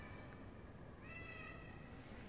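A stray cat meows faintly in the distance, a drawn-out cry rising over a quiet background hiss.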